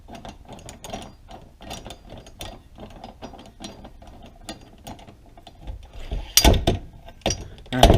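A ratchet clicks in quick repeated bursts while tightening a part on a Yamaha triple's chaincase, close and crisp, ending in a few louder knocks and clunks.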